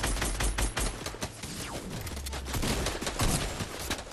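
Rapid automatic gunfire in the video game Fortnite, a dense, continuous barrage of loud shots with overlapping bursts throughout.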